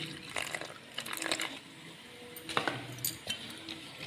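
Water poured into a dish of spice masala made with ground cumin, chilli powder and garam masala, heard as splashy, trickling bursts with light glassy clinks, close by and with no talking.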